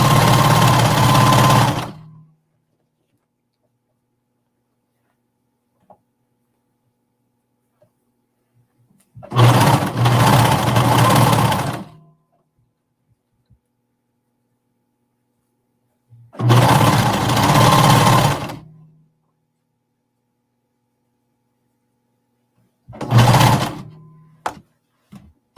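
A sewing machine top stitching a folded-over hem on fabric for an agility tank top runs in four separate loud bursts, each a few seconds long, with quiet pauses between them.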